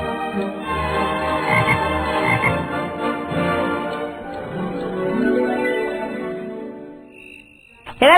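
Toad croaking at night, a loud close series of rattling, pulsing croaks that runs almost continuously, then a brief sharp noise at the end.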